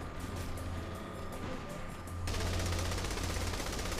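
Gunfire from an AK-style rifle in Saints Row 3, a dense rattling automatic burst that swells louder midway, steady and continuous, faint overall, no talking.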